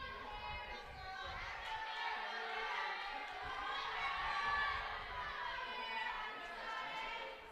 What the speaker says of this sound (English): the crowd now starting to hype up Garrett